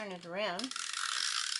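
A Stampin' Up Snail adhesive tape runner clicks and rasps in a fast, even run as tape is laid down on a card, close and moderately loud, following a brief spoken phrase.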